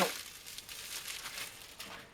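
A thin plastic bag is crumpled by hand, a short burst of faint, close crinkling rustles over a couple of seconds.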